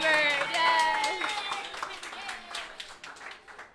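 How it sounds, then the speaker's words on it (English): Audience applause at a talk about tracking pregnant tiger sharks on the Saba Bank, fairly faint clapping from a small crowd that rises under a speaking voice and trails off. "So big round of applause for Hummingbird."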